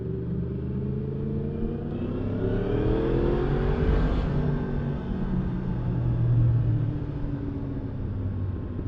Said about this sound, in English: A few bikes coming up behind me now, all gonna get stuck, same as me.